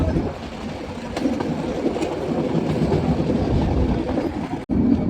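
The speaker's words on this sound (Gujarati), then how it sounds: "ટ્રેન ઉપડી ગઈ જંગલમાં એન્ટર થઈ ગઈ" A moving train in the Gir forest near Sasan rumbles steadily with a dense, rolling clatter of wheels on track, loud and continuous throughout.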